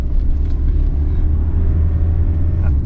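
VW Transporter 6.1 van driving on a road, a steady low engine and tyre rumble heard from inside the cabin, continuous and even throughout.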